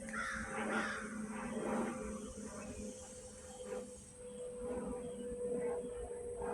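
Crows caw in the woods, several harsh calls repeating at a distance over a faint steady hum and outdoor background.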